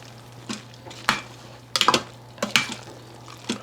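Spaghetti stirred in an Instant Pot, a few separate utensil clinks and scrapes against the pot over a quiet background hum, close and brief.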